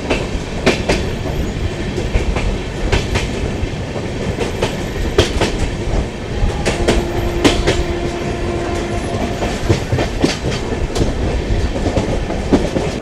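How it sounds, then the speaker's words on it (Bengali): A Lal Kuan Express passenger train travelling from Kolkata toward Nainital rumbles on its rails, with steady loud rolling noise and repeated rhythmic clickety-clack wheel beats heard close from inside the coach, and no voices. "এখন আমাদের ট্রেন এসে পৌঁছালো দেরি অন সোনে"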